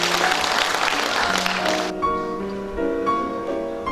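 Audience applause at a poetry book launch ceremony, a dense burst of clapping for about two seconds that drops away into tonal sound with lighter scattered claps.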